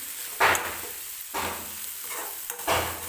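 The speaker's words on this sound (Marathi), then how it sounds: "मिरची थोडीशी व्यवस्थित तेलामध्ये परतून घ्यायची आहे" Green chillies fry in hot oil for a safflower leaf bhaji, with a soft sizzle under three distinct scraping stirs of a spatula in the pan, close and fairly loud.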